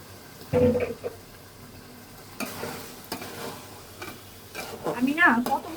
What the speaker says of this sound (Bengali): মাংস কিন্তু কষানো হয়ে গিয়েছে, আমি এখন চালটা দিয়ে দিব। চাল ডাল মেলানো যেটা আছে